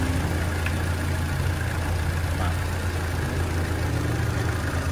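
Peugeot 207 hatchback engine idling steadily to warm up, a low, even hum with faint mechanical rattle throughout, heard fairly close and with no speech.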